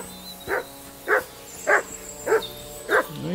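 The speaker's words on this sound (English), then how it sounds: "What are you barking at?" A dog barking in Kingdom Come Deliverance 2, five evenly spaced single barks about half a second apart, near and fairly loud, with no talking.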